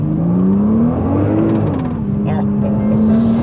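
A Nissan GT-R NISMO is driven hard, its engine a loud, close, sustained drone that rises and falls in pitch as it revs, with cabin rumble underneath and no talk.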